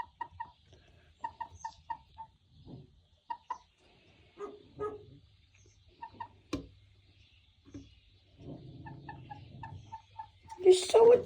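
A pet chicken perched indoors makes soft, repeated clucks in short rhythmic runs, close by and fairly quiet, with pauses between the runs. A louder squawk comes near the end.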